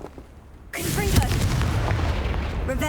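A Confringo spell blast in Hogwarts Legacy erupts as a sudden loud boom and keeps roaring as a dense, crackling wash with faint chirping tones over it.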